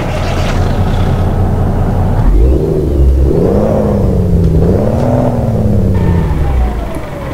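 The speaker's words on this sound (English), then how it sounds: "the really good Kenworth T800 with the brilliant Cat 475 brakes horsepower engine, which to me this sounds amazing" A Kenworth T800 truck with a Cat 475 horsepower engine in Euro Truck Simulator 2 rumbles loudly and revs through rising and falling gear pulls, its deep drone continuous throughout.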